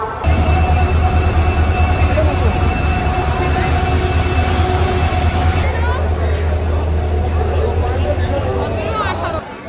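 An Indian express train rumbles steadily alongside a crowded station platform, with a low engine drone, metallic wheel noise and faint crowd chatter in the background.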